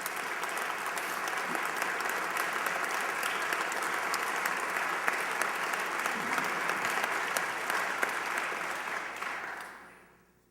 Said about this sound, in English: a nice round of applause and welcome for Mia Farrow